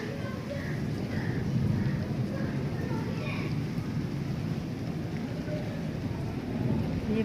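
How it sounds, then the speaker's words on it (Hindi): Heavy rain pours steadily and loudly, with low rumbles of thunder rolling underneath through the whole stretch while a person talks. "ये बादल गरजने की आवाज़ आपको आ ही रही होगी।"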